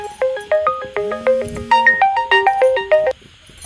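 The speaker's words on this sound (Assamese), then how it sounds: "লগতে ফোন আহি গৈছিল, কিন্তু মায়ে ফোন কৰিছিল" A mobile phone rings in a home kitchen while rice cakes are being made. The electronic melody is loud and close, with a steady run of stepping notes for about three seconds and a low hum partway through. No one speaks.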